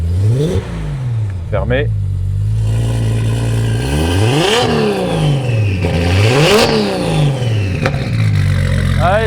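A turbocharged Nissan Skyline R32 engine is blipped several times, each loud rev climbing and falling back to a rumbling idle, close up. People talk briefly over it.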